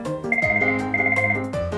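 An office telephone rings with a bright electronic tone, two repeated melodic bursts sounding close and clear with nothing else heard.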